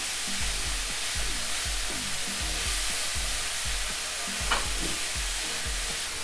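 Onions, celery, mushrooms and potato frying together in a crowded pan, a steady close sizzle with repeated rhythmic stirring scrapes running throughout and no talking.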